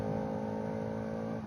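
A Bajaj Pulsar RS 200 BS6 motorcycle engine hums steadily while riding in third gear, a close, continuous tonal drone with even loudness and no voices over it.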